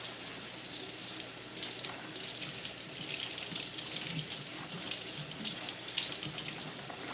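Boneless chicken breasts are rinsed under a running kitchen tap, a steady close splashing stream of water into the sink with small shifts as the meat is moved.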